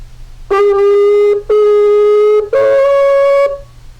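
Three sustained horn blasts from a shofar, each about a second long and separated by brief gaps, loud and close.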